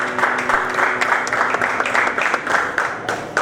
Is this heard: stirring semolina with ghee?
no